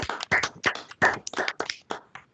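A single person claps alone on a video call, a quick series of about ten sharp, close hand claps in an uneven rhythm that thins out toward the end.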